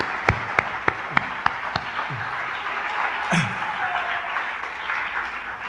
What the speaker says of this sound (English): give the UAM a tremendous applause and support for making this kind of thing happen